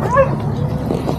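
A dog whimpers and gives a short yip, close and fairly loud, over a background of murmured talk and room noise.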